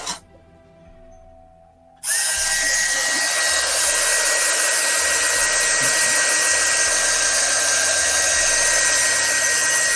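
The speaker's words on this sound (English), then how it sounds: "Grab the heat gun again. And I apologize, I know the heat gun's a little on the loud side." After a quiet moment, a loud heat gun switches on and roars steadily with a high whine, close by and unbroken to the end.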